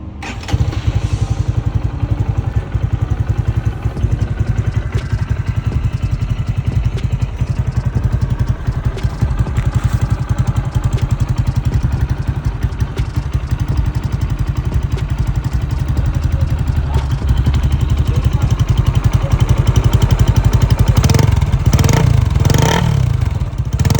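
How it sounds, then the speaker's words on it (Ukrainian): A Lifan SR220 motorcycle engine, started by electric starter, runs loud and close, a steady rumbling idle that swells slightly as it revs toward the end. "Двигун запускається тільки з електростартеру."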